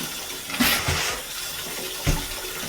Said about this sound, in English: I'm gonna give it one more rinse.